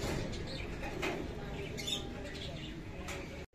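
Pigeons, golden high-flyer birds kept in a loft in Andheri, Mumbai, give soft coos and brief wing flaps under a steady background murmur, fairly faint and close, with no voices in this moment.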